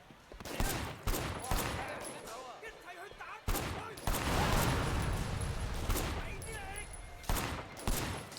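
Pistol gunfire in the video game Sleeping Dogs, several sharp shots spaced irregularly over a busy backdrop of game effects and noise.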